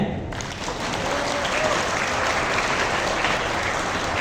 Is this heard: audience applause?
yes